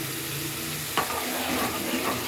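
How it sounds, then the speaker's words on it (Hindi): Masala frying in ghee for gobi matar, a steady broadband sizzle with light stirring scrapes, one sharper utensil knock near the middle, close and moderately loud. "5 मिनट हम मसाले को अच्छी तरह भूनेंगे"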